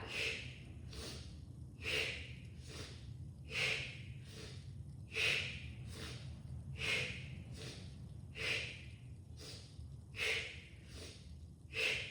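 Rhythmic breathing during a kundalini kriya exercise, about eight paired inhale-exhale cycles in a steady pulse, each breath close and distinct, with a low hum underneath and no talking.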